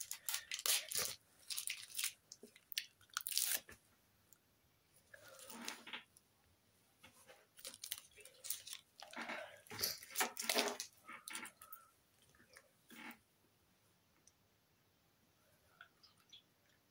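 Someone chewing a sticky, chewy sweet candy, with wet smacking and crunchy bites in uneven bursts, close to the mic, with quieter pauses between chews.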